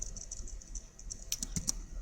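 Typing on a computer keyboard, faint scattered keystrokes with a few sharper clicks near the end, quiet and close with no talking.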